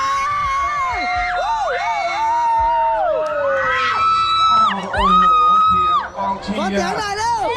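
Supporters at a futsal match cheer and whoop loudly throughout, with high shouts and excited crowd voices rising and falling, peaking in bursts near the middle and end.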